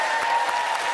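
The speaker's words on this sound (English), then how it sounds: "but cheer Jay Jones" An audience claps and cheers, a brief burst of crowd applause lasting only about a second, with a steady tone running underneath.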